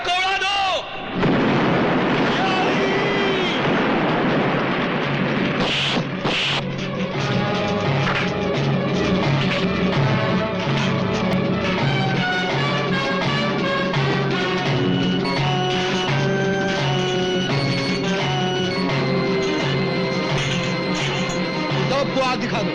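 In the 1982 Bollywood film Baghavat, a gate is blown up with a sharp, heavy blast near the start, followed by further booms under loud dramatic music and shouting voices.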